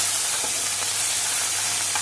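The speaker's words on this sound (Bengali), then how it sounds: "এখন আমরা নোনা ইলিশকে ভাজবো, ফার্মেন্টেড ইলিশ মাছকে ভাজবো।" Fermented salted hilsa fish frying in a little oil in a pan over a low gas flame, giving a steady, close sizzle and hiss with no pauses.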